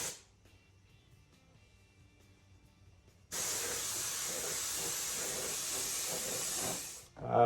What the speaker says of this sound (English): we're gonna be spraying blue and orange over it